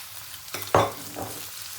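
Meat for pad krapow hitting a hot pan: one sharp sizzle burst as it lands, fading into a softer crackle and a brief stirring scrape, close and clear with no talking.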